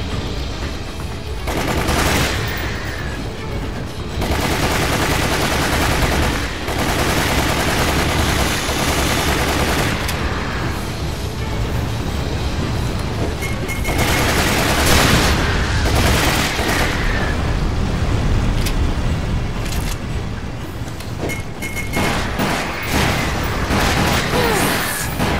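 Gunfire aimed at a monster in Resident Evil: The Umbrella Chronicles, with loud, continuous shooting and booming hits mixed into a dense, chaotic game battle that runs the whole time.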